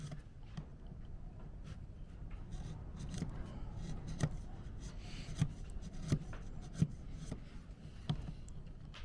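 A chisel carves wood on a gypsy wagon, giving steady close scraping and rubbing with a few sharper knocks and cuts, moderately quiet and with no talk.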